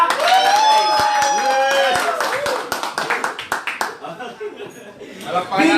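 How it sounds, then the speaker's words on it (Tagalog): A public speaking training audience claps in a lively burst while a voice talks and laughs close by, then the clapping thins into scattered, uneven claps before more talk begins. "Palakpakan natin."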